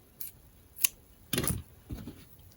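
Scissors snip through fabric while a face mask is cut out, several separate close, crisp cuts spread over a couple of seconds, with no talking.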